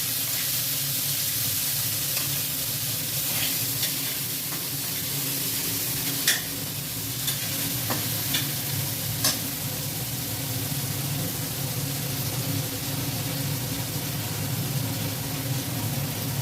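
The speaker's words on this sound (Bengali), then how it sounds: "পেঁয়াজটা একটু ভাজা ভাজা করা হচ্ছে" Chopped onion with salt sizzles steadily in hot oil in a home kitchen, with scattered clinks and scrapes as it is stirred, a continuous close frying hiss throughout.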